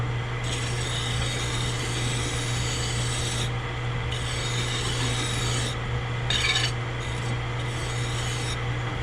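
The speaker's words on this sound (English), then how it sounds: "I think I'm actually just gonna bevel that edge right there with a file." A hand file rasps along a metal edge to bevel a part from a Farmall Super C tractor, steady back-and-forth strokes grinding continuously up close over a constant low hum.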